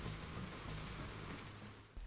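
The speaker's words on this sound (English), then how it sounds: "down to the sound of the rain running down the windows" Rain runs down the windows of a Half-Life video game map, a faint, even hiss of falling water with soft patter that stays constant and quiet before briefly swelling at the end.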